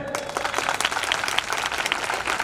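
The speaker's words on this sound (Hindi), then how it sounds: "तो आई थिंक अगर बच्चे एग्री करते हो जोरदार तालियां हो जाए।" Audience applause at a motivational event, a dense, steady wash of many hands clapping at once that holds throughout without pause and with no talk over it.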